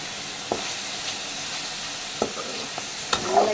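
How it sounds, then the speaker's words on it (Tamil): Gooseberries (amla) sautéing in oil in a pan for nellika rice, a soft continuous sizzle with a few sharp scraping stirs at irregular intervals, close and without talk. "நல்லா அந்த எண்ணெயிலேயே வதக்கணும் நெல்லிக்காவை"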